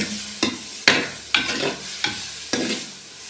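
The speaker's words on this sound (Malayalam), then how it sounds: "അതിലേക്ക് ഞാൻ ഇഞ്ചി വെളുത്തുള്ളി ചതച്ച പേസ്റ്റ് ഇട്ട് കൊടുത്ത്" Sizzling oil crackles in a pan as ginger garlic paste fries with onions, while a spoon scrapes and stirs at a steady pace, five distinct stirring strokes, close and moderately loud.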